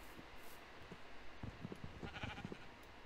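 Sheep bleating in Minecraft 1.19, a cluster of short, moderately loud bleats repeating in quick succession over quiet game ambience, with no talk.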